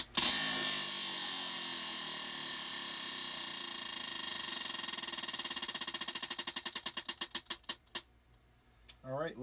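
A prize wheel spins fast at first, its clicks blurring into a steady rattle, then slows into distinct, spaced ticks that fade out before it stops.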